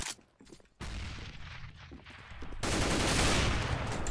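Gunfire in CS:GO arrives in loud bursts. After a brief quiet start, a dense rattle kicks in, then swells into heavier, continuous automatic fire near the end.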